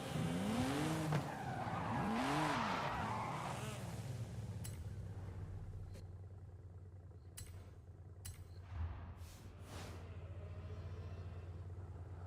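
Tires of a BMW 1M screech and skid in a Forza racing game, a loud squealing slide over a low engine rumble, then fading to quieter driving with a few sharp clicks.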